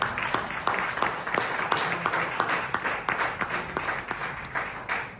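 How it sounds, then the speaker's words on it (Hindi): An audience at a seminar claps to welcome three people onto the stage, a steady patter of applause from a crowd at moderate distance that carries on for several seconds without speech. "जोरदार तालियों के साथ स्वागत करें"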